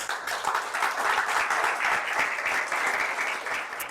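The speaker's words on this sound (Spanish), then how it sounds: "Bríndele un aplauso al Señor" A church congregation breaks into sustained applause, many hands clapping together in a dense, steady roar that holds for several seconds with no speech over it.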